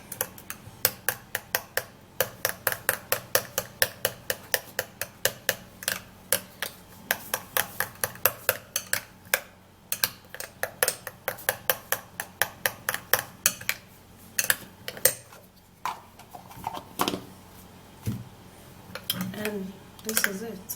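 Vaseline being stirred in a small bowl, producing a long run of quick, regular clicking and tapping strokes, fairly close and steady, with a few louder knocks near the end.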